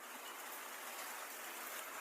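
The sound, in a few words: heavy rain during typhoon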